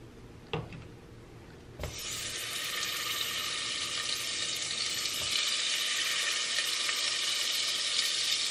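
Vegan butter made from olive oil melts and sizzles in a pan over medium heat, a steady bright crackle that builds after a couple of soft knocks and stays close and even with no talking.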